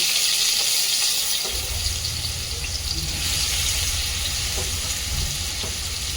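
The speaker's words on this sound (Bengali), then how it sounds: "এবার আমি কচুটাকে একটু ভেজে নেব, হালকা করে একটু ভেজে নেব।" Pressure-cooked taro frying lightly in a pan of oil makes a continuous close sizzle with stirring scrapes and a low bubbling rumble, with no talking.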